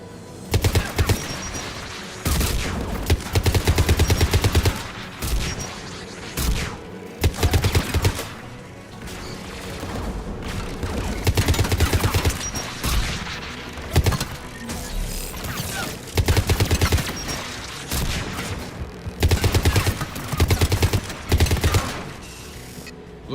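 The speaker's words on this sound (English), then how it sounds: "AA guns ahead of us." Anti-aircraft guns in a video game fire in repeated loud bursts of rapid gunfire and heavy impacts, with short pauses between volleys throughout.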